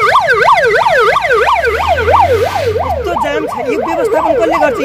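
A wailing ambulance siren sweeps up and down in steady, rapid cycles, loud and close, over the low rumble of engines in a traffic jam on a bridge.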